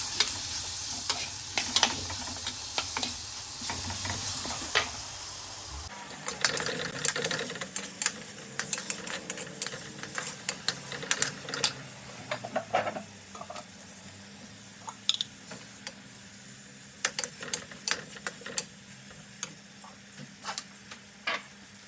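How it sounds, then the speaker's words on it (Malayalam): Tomato and curry leaves fry in a pan for a fish head curry. A continuous sizzle grows fuller partway through, with frequent sharp clicks and scrapes of stirring. "പിന്നെ നമുക്ക് കുറച്ച് കറിവേപ്പിലയും കൂടെ ചേർത്തിട്ട് നന്നായിട്ട് ഇളക്കാം."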